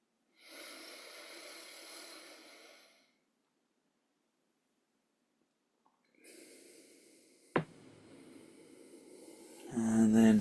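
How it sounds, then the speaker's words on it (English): Slow nasal breaths during a yoga session, a soft, drawn-out inhale and exhale heard close, a long silent pause, then another breath with a sharp click and rising noise at the end. "Breathe in through the nose and out through the nose"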